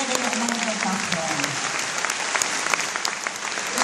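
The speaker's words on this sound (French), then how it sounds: "Applaudissons-le, c'est Jésus merveilleux qui peut nous guérir même d'un cancer." Congregation applauding at a Haitian church praise service, steady dense clapping throughout with a few voices rising over it early on.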